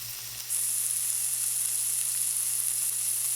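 Beef patties sizzle steadily and loudly in a hot pan, a constant bright hiss that starts abruptly and continues without pause.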